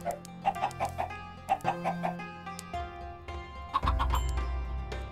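Minecraft chickens clucking in the game Attack of the B Team, a series of short close clucks in bursts, followed by a steadier low background hum and further clucks near the end.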